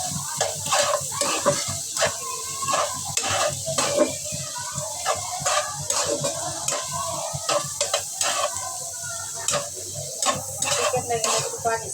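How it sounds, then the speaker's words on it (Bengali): Chicken pieces frying with salt in a pan, a continuous sizzle broken by repeated scraping and stirring strokes, with faint talk beneath. "আর একটু লবণ দিয়ে ভালোভাবে ভাজিয়ে নিই চিকেনটা।"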